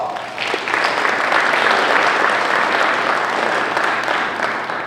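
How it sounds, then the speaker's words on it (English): Audience applause at an urban jobs business-pitch challenge swells quickly into a dense, even roar of clapping, loud and close, holding steady for several seconds before starting to ease off. "let's all give them a round of applause"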